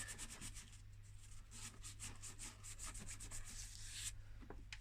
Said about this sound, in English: The act of sanding it should actually get rid of quite a lot of that actual surface grot